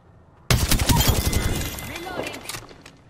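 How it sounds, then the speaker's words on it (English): Bursts of automatic gunfire in Apex Legends erupt suddenly and hammer on loudly and close for about two seconds, then fade, mixed with game sound effects. "Listen up, I'm getting shot at."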